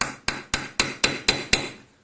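Seven evenly spaced hammer blows strike a punch set against the lock nut of a Land Rover steering box during a reseal and setup. The sharp metallic hits ring briefly and sound close, with nothing else heard.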